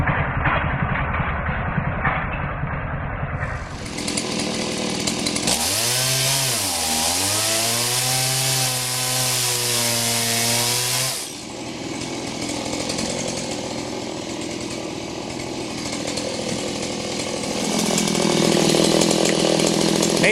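A chainsaw with a freshly sharpened chain cutting firewood: idling at first, then a loud, sustained cut with the engine pitch dipping and recovering under load before it drops back to a steady run.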